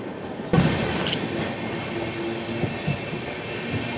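Okha to Ernakulam Express running at high speed near Vishwamitri station in Gujarat, heard as a steady broadband rumble of wheels and cars with a sharp surge after a moment and occasional clacks, with no talk.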